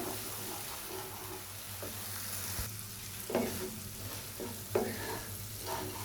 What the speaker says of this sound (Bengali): খুব ভালো মতো ভেজে নেব। দিয়ে দিলাম বাদাম বাটা